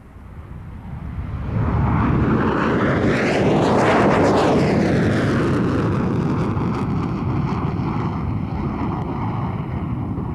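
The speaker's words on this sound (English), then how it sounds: "From the Royal Australian Air Force, this is the mighty F-111 Aardvark." A Royal Australian Air Force F-111 Aardvark jet at an airshow, its engine roar swelling loud as it passes close overhead, then sustaining a broad, rumbling wash as it moves away.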